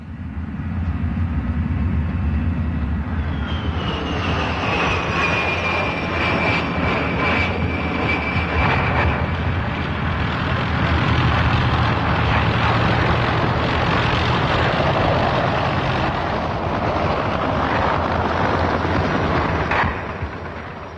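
Military jet aircraft during a NATO exercise roar loudly and continuously overhead, with a whining engine tone sweeping down as the plane passes, over a heavy rumbling wash of engine noise.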